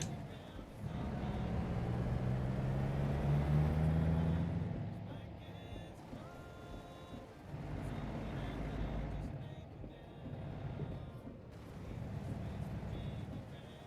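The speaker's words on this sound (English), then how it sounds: "Make it so you can actually hear the truck." Truck engine driving in a trucking video game hauling a boat, a low droning rumble that swells and eases with acceleration, steady and moderately loud throughout.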